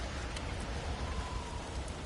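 A desert storm in a video game brings steady rainfall with a soft patter of drops and a low rumbling undertone, fairly faint and continuous, with no voices.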